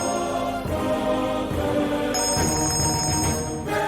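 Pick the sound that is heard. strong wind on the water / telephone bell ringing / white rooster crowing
telephone bell ringing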